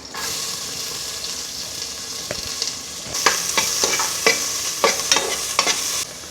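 A medium-sized onion frying in a pan for mint rice gives a loud continuous sizzle, joined midway by a quick series of sharp spatula scrapes and clicks.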